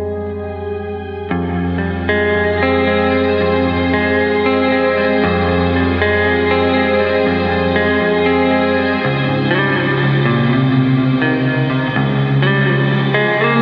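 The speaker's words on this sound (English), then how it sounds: "So let's just hear what the shimmer reverb sounds right off the bat." A shimmer reverb pedal washes sustained guitar chords in a dense, octave-up shimmering tail, loud and continuous with chord changes throughout, no voices.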